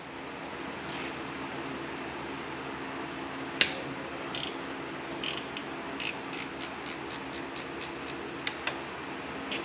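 A wrench ratchets a bolt on a Honda Goldwing during timing belt reassembly, a sharp click followed by a run of quick, evenly spaced ratcheting clicks, close and clear in a quiet room.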